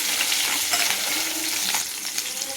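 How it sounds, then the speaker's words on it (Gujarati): Chopped green chillies frying in hot oil with mustard seeds, asafoetida and turmeric, stirred in a pan for a Gujarati sambharo; a dense, loud, continuous sizzle with soft scraping of the stirring spoon, close up and without voices. "હવે આપણે એને હલાવી દેવાના છે।"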